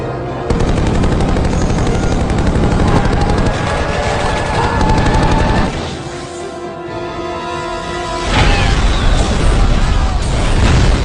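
Automatic gunfire rattling from an aircraft firing down on enemy troops during an action-film escape, dense and loud throughout, mixed with booming impacts and a swelling musical score.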